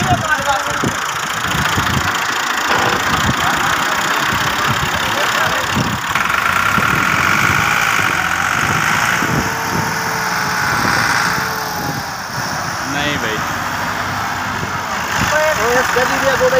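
An Al-Ghazi tractor engine runs steadily during a rescue of tractors stuck in the mud, a loud mid-pitched rumble with knocking vibration throughout, while people talk nearby.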